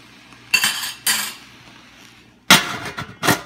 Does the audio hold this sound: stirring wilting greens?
yes